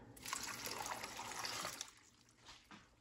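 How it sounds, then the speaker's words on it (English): Water poured from a container into a slow cooker holding drained apples for homemade apple butter: a close, steady splashing gush for about two seconds, then tapering to faint trickles. "To that, I'm gonna add 2 cups of water."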